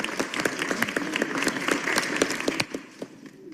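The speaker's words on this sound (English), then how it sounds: "Clap for that." A city council meeting audience in Atlanta breaks into applause, brisk close clapping with crisp individual claps that thins out and fades toward the end.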